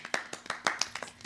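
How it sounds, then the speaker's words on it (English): Brief clapping by a few people reacting to a Bollywood music video, about eight quick claps in an uneven rhythm, close and moderately loud, with no talk over it. "Round of applause."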